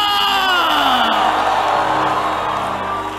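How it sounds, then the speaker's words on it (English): Congregation at a Yola revival meeting shouting, whooping and clapping together, a loud continuous crowd roar of cheers that holds steady throughout and fades slightly at the end. "give Jesus the biggest clap tonight"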